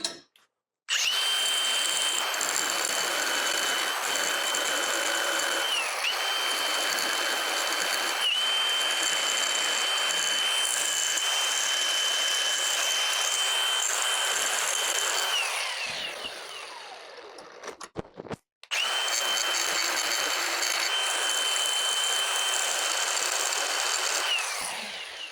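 A grinder smooths down a fishing rod during a repair, running in long steady high-pitched whirring passes up close, with the pitch shifting under load, a pause, then another continuous pass.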